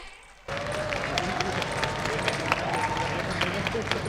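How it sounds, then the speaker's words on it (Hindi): An audience at a college valedictory ceremony breaks into sudden, steady applause for a competition winner, a dense wall of clapping with some crowd murmur that runs for several seconds and then cuts off. "तालियां बजा दो, अपने कॉलेज का है"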